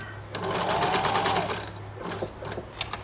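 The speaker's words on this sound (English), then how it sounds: "I'm sewing onto a stretch knit" A sewing machine stitches ribbon onto the edge of a stretch knit sleeve, giving a steady close whirring run of needle strokes that slows and stutters toward the end.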